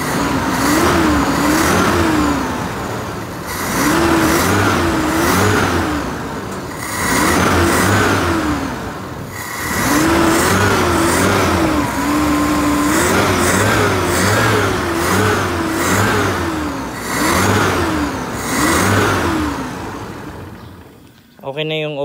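A car engine fitted with a carburetor, just repaired for overflow and hard starting, runs and is revved repeatedly, rising and falling in steady mid-pitched waves over a continuous loud drone, with people talking underneath.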